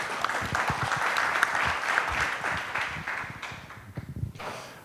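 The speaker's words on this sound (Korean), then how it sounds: "박수로 환영해 주십시오" A crowd at a defense industry forum claps warmly to welcome a speaker, dense sustained applause that tapers toward the end with a few scattered claps.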